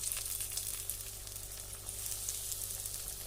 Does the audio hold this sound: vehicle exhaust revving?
no